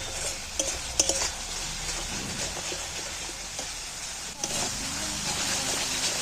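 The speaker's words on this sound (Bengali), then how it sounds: "এবার আমি সব মশলাগুলো একসাথে ফের কষিয়ে নিচ্ছি।" Spices being fried and stirred together in a pan for an egg and coriander bhapa, a steady sizzle with clinks and scrapes of a spoon, mostly alone and fairly close.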